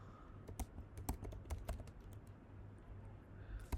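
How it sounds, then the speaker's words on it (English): Someone types on a computer keyboard, a quiet, close patter of irregular key taps over a low background hum. "I'm going to type here"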